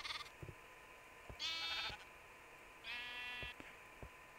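Two clear bleats from sheep in Minecraft, each lasting about half a second, with soft thumping steps and clicks between them.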